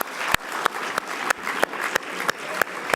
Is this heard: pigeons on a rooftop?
no